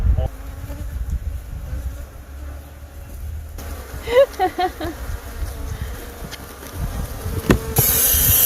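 Killer bees swarm around a hive, giving a steady, close insect buzz that runs the whole time, with faint murmured voices and a few louder knocks and rustles.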